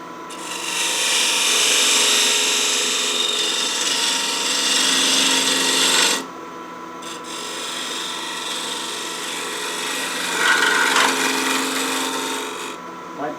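A Jarrah square bowl spinning on a wood lathe, with a gouge scraping and cutting in a loud, continuous rasp that drops briefly at about six seconds and changes tone when the cut resumes.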